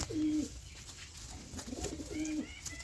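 High-flyer pigeons cooing close by, two soft rolling coos separated by a brief pause over faint background noise.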